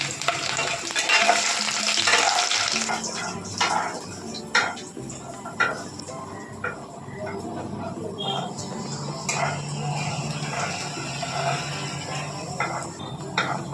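Crushed garlic sizzling in hot oil with dried chillies and black cumin, a steady close frying hiss that fades slightly as a spatula stirs and scrapes the pan in intermittent clicks.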